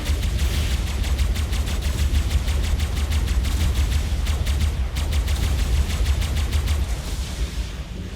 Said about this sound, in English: Let's see if we can't debo her with the old Tek rifle